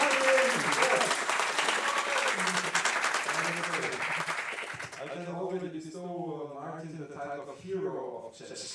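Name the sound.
audience applause at a conference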